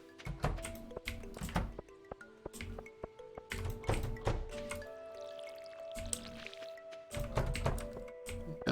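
Crops being watered by hand in Stardew Valley, with repeated short pouring and splashing sounds in uneven bursts under light background music, no voices.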